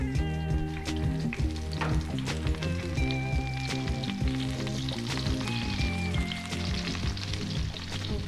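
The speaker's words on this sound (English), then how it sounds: "We're gonna stir fry it. Stir fry, saute." Food is stir-fried in a hot pan with salt and pepper, a steady sizzle under clattering stirring and tonal ringing, busy and continuous throughout.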